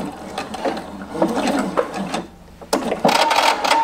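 A sewing machine stitches neck binding on a dress, running in short mechanical bursts with a brief pause before starting again, close and clear with no talk.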